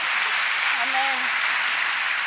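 A church congregation applauding in worship, a steady wash of clapping throughout with a single voice speaking briefly over it.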